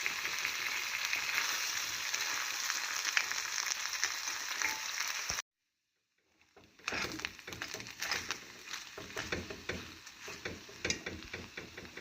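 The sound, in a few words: beef roast with shallots being stirred and fried in pan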